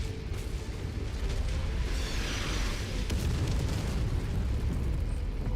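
An enemy mech's reactor blows up in a mech combat video game: a sustained, loud rumbling explosion with dense low-end roar and crackle runs through the whole stretch, with no talk over it.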